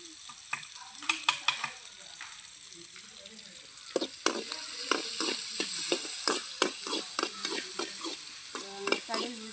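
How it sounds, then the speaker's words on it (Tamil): Mustard seeds, curry leaves, dried red chilli and onion fry in hot oil with a continuous crackling sizzle, punctuated by sharp, close spatula scrapes and clinks against the pan in an irregular rhythm. "கடுகு, கருவேப்பிலை, காஞ்ச மிளகா, அப்புறம் வெங்காயம் போட்டு நல்லா வதக்கியாச்சு"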